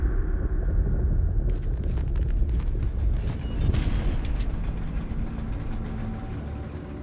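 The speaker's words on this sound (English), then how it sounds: "that was a train that just hit something that caused a cave-in" In the game The Ball, a train smashes into a wall and sets off a cave-in, heard as a heavy, sustained rumble of grinding, crashing rock and creaking debris that rolls on steadily before easing slightly.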